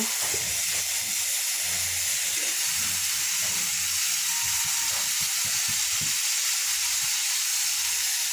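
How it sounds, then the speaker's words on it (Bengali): Ground spices such as coriander and chili powder fry in a pan for a Bengali potato and fish curry, giving a steady, close broadband sizzle and hiss with faint stirring scrapes underneath and no voices. "আমি এখন মশলাটা কষিয়ে নেব"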